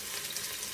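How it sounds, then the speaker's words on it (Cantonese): Chopped garlic fries in a pan beside chicken wings, a dense, even hiss heard up close for a brief moment. "炒呢個蒜米啊，煎一煎個蒜米啊"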